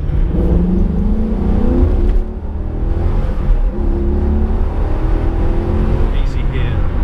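Maserati GranSport with a new exhaust revving and pulling hard, a loud continuous engine roar that rises and falls through the whole stretch, with people talking over it in the cabin.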